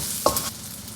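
Aromatics hit a tablespoon of moderately hot vegetable oil in a wok, giving a brief sharp sizzle and a quick stir that fades into a soft, steady fry.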